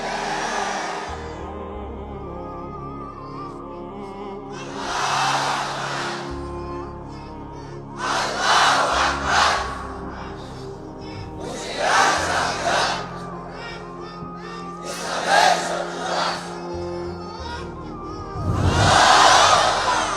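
A large crowd at an Islamic religious gathering in Bangladesh shouts slogans in loud, roaring bursts that swell and fade, about five waves spaced a few seconds apart, with quieter murmuring and a lead voice between them.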